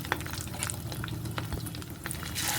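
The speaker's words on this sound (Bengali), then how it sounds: "এবার এক একে বড়াগুলো ভেজে নেবো" Fritters of katla fish roe sizzle steadily in hot oil, a close, continuous crackling fry with small pops and no talk.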